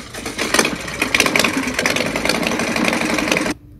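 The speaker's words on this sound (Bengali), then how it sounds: "sound effect motorcycle" A Honda motorcycle engine sound effect plays as a loud, continuous, buzzing mid-range drone with rapid firing pulses, running steadily for about three and a half seconds before cutting off.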